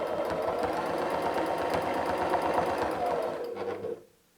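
A sewing machine quilts straight lines on a sweatshirt, its needle chattering in a rapid, steady rhythm close by, then stopping abruptly near the end.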